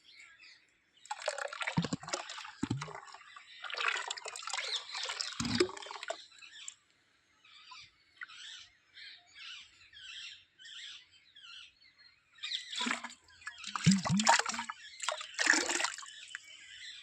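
Dr Soil slurry is poured into a drum and mixed, giving intermittent splashing and sloshing bursts with quieter trickling and dripping gaps between them.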